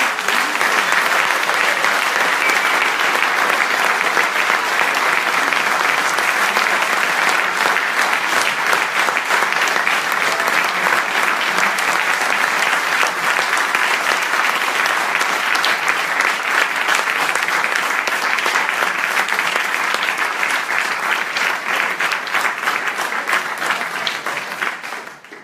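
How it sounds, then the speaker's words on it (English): Steady, dense audience applause at a makeathon presentation event, honoring all the competing teams, sustained and even for well over twenty seconds before tapering off at the end. "we have to give one really, really big applause for all the teams"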